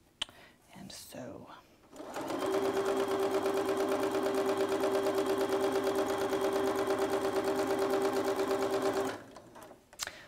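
A sewing machine stitches quilt pieces together in one long, steady, even run of close mechanical whirring. Faint handling noises come just before it starts and just after it stops.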